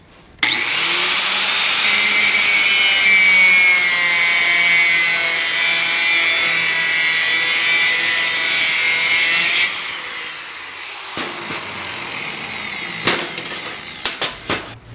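Angle grinder cutting a metal pipe clamped to a table, a loud high-pitched whine with steady cutting for about nine seconds before spinning down, followed by a few sharp metallic clanks.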